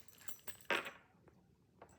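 Ring of vehicle keys jangling in a designer handbag, several light metallic clinks with one brighter rattle near the start, close and quiet.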